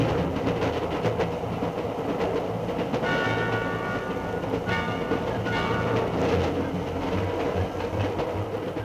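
A train rumbles past close by with a continuous rolling roar, wheels clattering over the rails and a faint metallic squeal midway.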